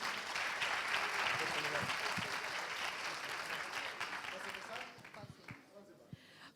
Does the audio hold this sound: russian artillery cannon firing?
no